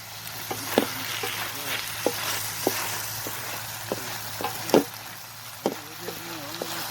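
Food fries with a soft, steady sizzle in a pan at a lakeside outing, broken by regular scraping clicks of a utensil stirring it; no talking.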